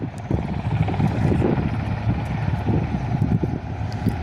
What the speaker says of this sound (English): he pulls up at the very last second. Cessna C172, I believe this is the blue one.